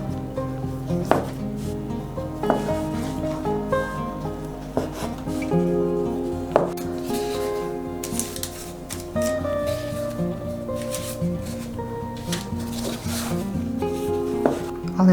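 A knife slices a puff pastry roll with soft, scattered cuts and taps against a board, heard under steady melodic background music.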